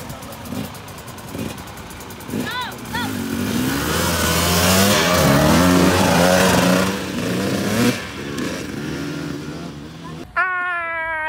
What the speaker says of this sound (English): I still can't believe I'm getting to ride through one of them.